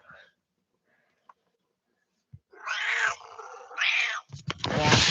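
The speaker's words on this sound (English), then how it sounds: "The cat. The cat is with us." A house cat meows twice in a row, close and clear, in a quiet indoor room after a few faint scattered sounds, with a burst of other noise at the end.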